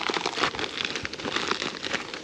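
An opened bag of hemp seed cake bait for fishing crinkles and rustles close by, a dense, continuous crackling of plastic handled for a couple of seconds with no speech.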